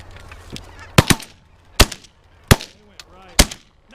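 Shotgun blasts ring out on a goose hunt over silhouette decoys, four sharp, loud reports spaced under a second apart, with geese honking faintly between the shots.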